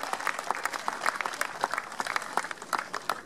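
Attendees at a town centenary ceremony applaud, a smaller crowd clapping with distinct individual claps forming an uneven, pulsing patter that rises and falls.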